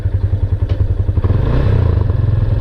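A motorcycle engine idles or runs close by, a low, rapid, pulsing chug with faint clatter, heard steadily for a few seconds during repair work.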